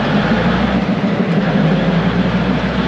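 A long train rolls steadily through the Maeklong railway market in Samut Songkhram, Thailand, a loud continuous low rumble and broadband roar close by with no break, no talk.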